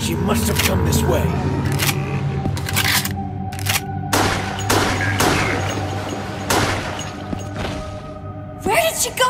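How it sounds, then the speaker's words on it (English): Gunshots ring out in the Wii game Resident Evil: The Darkside Chronicles, several sharp cracks spread across the stretch amid a steady game soundtrack, with voices speaking around them. "A gunshot!"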